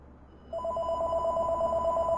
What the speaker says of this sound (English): I got to get the phone.